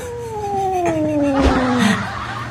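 A cat lets out a long, loud, close caterwaul, a drawn-out meowing wail that slides downward in pitch and ends in a rougher growl.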